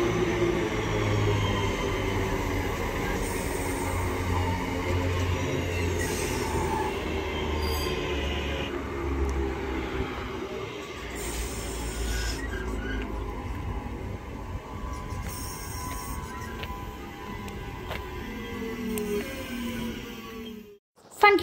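A train arrives at Duddeston station, its wheels squealing and grinding loudly on the rails as it slows. A rumbling motor lies underneath, and scattered clanks and brake hisses fade toward quiet at the end.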